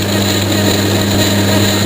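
An old lathe set up for milling aluminium with a 6mm Weldon-shank four-flute roughing cutter runs steadily, a constant close mechanical whine and hum with no talk over it.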